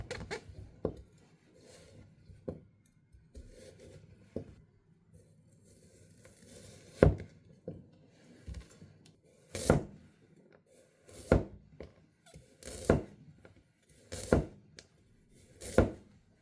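A JNS Kokorozashi Tamamoku gyuto knife wedging through thick, dense carrot and sweet potato, giving a series of sharp, separate chops, sparse at first and then coming in a steadier run of loud cuts against a quiet background.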